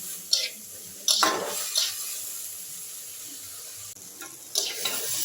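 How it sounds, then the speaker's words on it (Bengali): Masoor lentils fry with salt, turmeric and spices in a pan, giving a steady close sizzle broken by several scraping stirs and light clinks of a utensil against the pan. "নুন হলুদ আর সমস্ত মশলা দিয়ে আমি ডালটাকে আরেকবার ভেজে নিচ্ছি"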